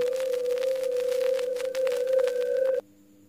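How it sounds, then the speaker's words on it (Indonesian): A steady electronic telephone tone sounds while a call is placed, holding one pitch for nearly three seconds over faint background noise before cutting off abruptly into near silence. "langsung saja kita telepon si Sonicnya ya"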